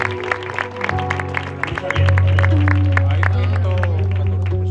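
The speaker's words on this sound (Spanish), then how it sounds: "Dale un fuerte aplauso a Dios" A church congregation at a Madrid neighbourhood revival meeting claps in quick, steady bursts over a droning musical backing, while voices murmur in the room.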